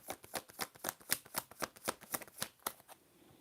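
A deck of playing cards being riffled and shuffled up close, a rapid run of about a dozen crisp flicks in quick succession, alone and fairly quiet.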